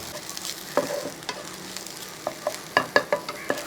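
Onion and crushed ginger frying in a pan while being stirred, with a steady low sizzle and a series of sharp scraping and clinking strokes from the spoon, growing more frequent toward the end.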